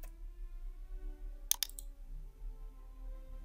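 A computer mouse clicking while someone browses a hashtag-finder webpage; two quick crisp clicks in a row, close and clear over a quiet room hum, with no talking.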